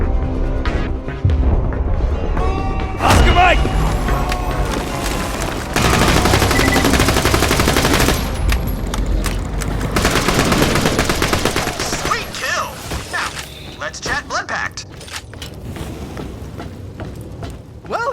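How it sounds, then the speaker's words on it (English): Gunfire from the video game Borderlands 2 while fighting enemies, loud, dense bursts of rapid automatic shots and booms that sound almost continuous, ebbing and returning with game effects mixed in. "Kill it, stab it, shoot it!"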